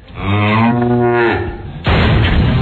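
A cow lows in a long, loud, steady moo, followed after a brief pause by a sudden, loud, sustained blast as the animal is blown up with explosive primer cord in Texas.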